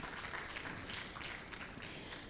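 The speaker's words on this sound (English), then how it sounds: "give applause for Dr. Frost" Audience applause at an international public health conference on agro-coastal communities, a steady wash of many hands clapping at a moderate distance, even and sustained with no break.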